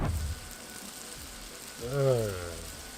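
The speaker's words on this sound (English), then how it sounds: "You hear the sizzle?" Grasshoppers deep-frying in hot oil give a soft, continuous sizzle and crackle at low volume, with a brief voiced sound rising over it near the end.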